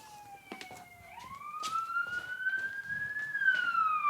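A police car siren wails nearby, one rising and falling electronic tone that grows louder across the few seconds over faint background noise.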